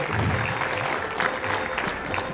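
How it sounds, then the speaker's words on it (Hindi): An audience at a children's academy art exhibition claps in sustained, dense applause, a continuous crackling wash of many hands heard from within the crowd. "आप सभी का बहुत जोरदार तालियों से आप अभिनंदन कीजिए"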